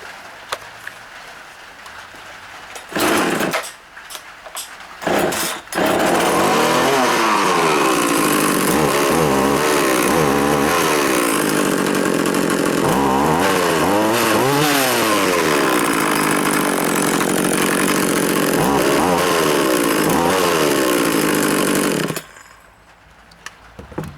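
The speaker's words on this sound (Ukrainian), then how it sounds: "Аліамак 937 не заводиться. Буркне чуть і все, і перестає." An Oleo-Mac 937 chainsaw that will not stay running is pulled over a few times with short bursts. It then catches and runs loud and close for most of the clip, revving up and down, before it dies away.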